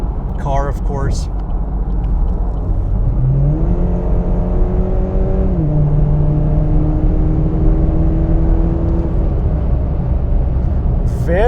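A 2021 Chevy Camaro 1LS accelerates onto a highway, its engine note climbing through rising, shifting tones before settling into a steady cruise over a constant road and wind rumble, with brief voice sounds at the start and end.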